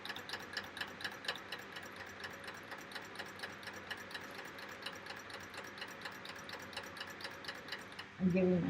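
A serger sewing machine runs steadily, stitching a long thread chain onto scrap starter fabric with a fast, even mechanical rattle that holds for several seconds before a brief louder knock at the end.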